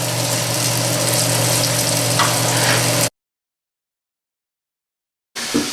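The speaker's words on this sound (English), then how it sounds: "Another pan here, we've got some olive oil and a touch of garlic and julienne zucchini." Zucchini cut into julienne strips frying with a touch of garlic in olive oil in a pan, giving a loud, steady sizzle for about three seconds, then a gap of silence before the sizzle comes back briefly.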